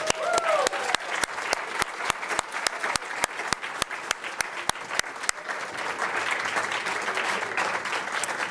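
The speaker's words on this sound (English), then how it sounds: "Let us congratulate and applaud our newest First Falcons." An audience at a First Falcons pinning ceremony applauds in a sustained wash of clapping, with sharp regular claps standing out near the front for the first five seconds before the applause settles into a dense, even patter.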